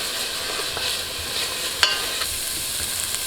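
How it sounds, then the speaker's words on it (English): Chopped onion and garlic being stirred and sautéed in a pan as the base for a tomato sauce, giving a steady close sizzle with light scraping and a sharp utensil tap partway through, heard without talk. "we are going to give those a bit of a stir and saute them for roughly 3 to 5 minutes"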